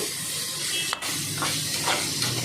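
Curry leaves hitting hot oil while aloo kurma is cooked for a vegetable biryani meal, a loud, close, continuous sizzling hiss with a brief dip partway through, no talking.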